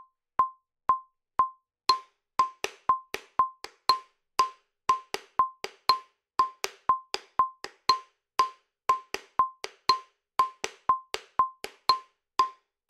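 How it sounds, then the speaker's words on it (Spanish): Salsa timbal cáscara pattern in 3-2 clave on the pailas: crisp, close wooden-sounding clicks in a steady repeating rhythm with alternating accents, alone without talk. "La cáscara es el patrón que interpreta el timbalero en las pailas del instrumento."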